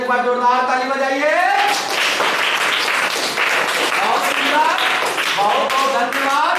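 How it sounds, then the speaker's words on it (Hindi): A school audience breaks into loud, steady applause at a Durga Puja function after being asked to clap, with dense clapping running throughout and voices shouting over it near the start. "मजा आया तो एक बार जोरदार ताली बजाइए।"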